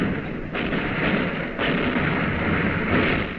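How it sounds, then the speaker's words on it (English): Naval gunfire from a cruiser's guns (USS Boise) in an old-time radio drama: heavy, rumbling blasts with sharp onsets near the start and midway, over a continuous dense roar of battle noise. "Now the shells are hitting the enemy cruiser."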